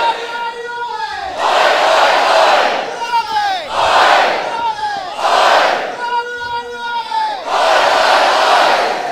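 A packed crowd of 700-plus at a wrestling event cheers and chants in loud rhythmic surges, with a voice speaking over the din between bursts.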